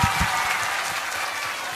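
An audience at an Islamic religious gathering applauds, a brief burst of dense clapping that stays steady for under two seconds with no talk over it.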